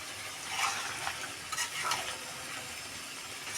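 A chicken and vegetable curry with chopped coriander is stirred in a pan, giving soft sizzling and a few scraping strokes of a spoon against the metal, close and steady throughout.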